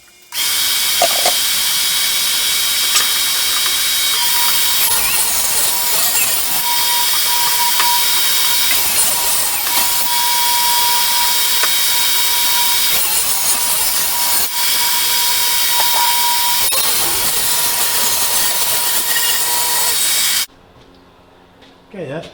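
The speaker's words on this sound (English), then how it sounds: "cut this top right down through the center here" A power saw cutting straight down through the center of the wooden top of a shop tool box: one loud, continuous, high whining cut lasting about twenty seconds, close up, that stops abruptly near the end.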